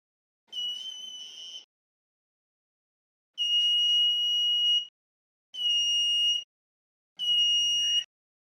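An electronic buzzer on a circuit activity board sounds in four shrill, steady tones, each about a second long, separated by silent gaps.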